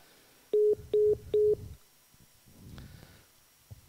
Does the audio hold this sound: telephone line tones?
yes